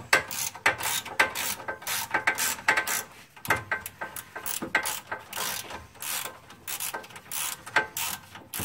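A ratchet loosens a front strut bolt on a Mercedes C180 during front control arm replacement, giving rapid, close, repeated metallic clicking in bursts with short pauses.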